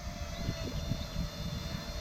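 Parrot Mambo and DJI Ryze Tello drones flying outdoors in wind, giving a steady droning propeller buzz with gusty low rumble, fairly constant and alone with no talking.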